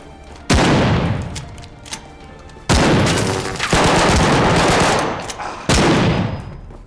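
Gunfire in the video game ARC Raiders: three loud, sharp bursts of rapid shots, each decaying into echoing tails, with a brief lull between the first two.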